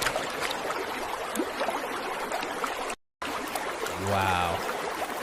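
Water trickling and streaming steadily around a paper boat in an AI-generated Veo 3 scene, a continuous close wash with a brief gap of silence partway through.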